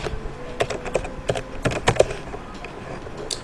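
Computer keyboard clicking as HTML code is typed, irregular close keystrokes in short bursts with brief pauses.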